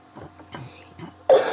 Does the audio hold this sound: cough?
yes